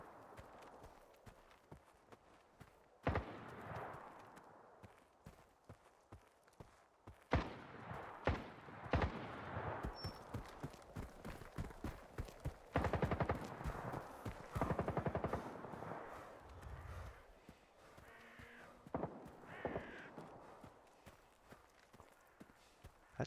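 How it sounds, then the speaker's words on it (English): Gunfire in S.T.A.L.K.E.R. 2 crackles in quiet, irregular bursts of sharp shots, some in rapid strings, amid in-game footsteps and ambience. "I definitely hear gunfire."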